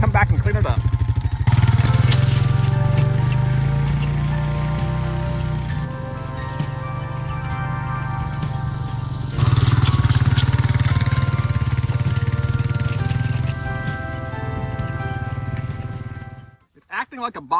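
An ATV drags a Garvee 4' x 5' drag harrow over loose soil in a fall food plot, its engine droning steadily and loudly, surging once partway through and then cutting off near the end.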